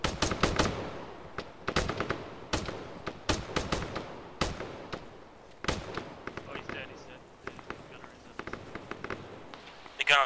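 Gunfire in the Arma video game crackles in sharp bursts, single shots and rapid strings with some near and some farther off, all through the clip while players talk over radio.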